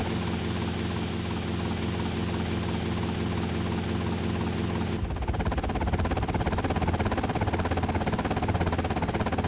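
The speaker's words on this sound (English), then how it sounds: "The helicopter should be here." A helicopter arrives in GTA Vice City with a loud, continuous rotor and engine drone that changes pitch and texture partway through as it draws near, pulsing steadily throughout.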